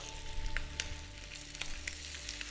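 Scallops sear in a very hot pan, a low crackling sizzle with quick spitting pops close by and no voices.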